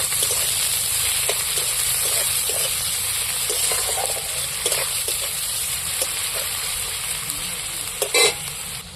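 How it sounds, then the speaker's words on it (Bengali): Chopped onions frying in hot oil, a steady close sizzle throughout with repeated scraping and clinking as a utensil stirs them around the pan. "কাটা পেঁয়াজগুলো তুলে দিচ্ছি তেলের মধ্যে পেঁয়াজগুলো একটু নাড়াচাড়া করে"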